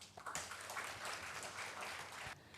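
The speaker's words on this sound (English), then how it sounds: "A big round of applause." Applause from an afternoon audience at a panel session of a 2019 festival, a steady wash of clapping filling about two seconds at moderate volume before cutting off.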